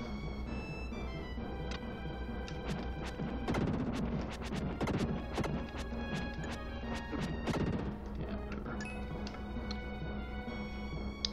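Loud, dense crashing and smashing with repeated sharp impacts over a steady low rumble, an earthquake effect in the game Illusion of Gaia, continuous throughout.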